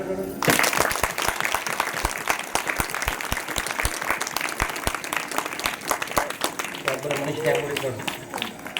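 A large audience claps loudly and steadily at a devotional kirtan discourse, with dense rhythmic hand claps sustained throughout and some voices mixed in.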